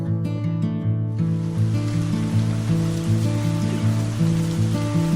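Rain falls in a steady, even hiss that is moderately loud throughout and mixed with soft sustained music.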